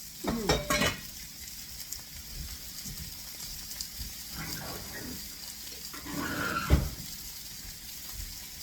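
Beef steaks seasoned with smoked applewood salt fry in a pan with a steady low sizzle, broken by a few louder clatters and scrapes of a utensil near the start and a sharp knock toward the end.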